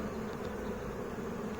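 Honeybees buzz steadily and densely over an open hive frame during an inspection, a continuous close drone with no voices over it.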